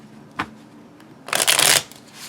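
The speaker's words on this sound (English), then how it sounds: "It still rifle shuffles really well." Little Scarabeo cardstock cards being rifle shuffled: a brief snap of riffling, then a loud, dense burst of flapping cards lasting about half a second, with a faint patter after; no talk.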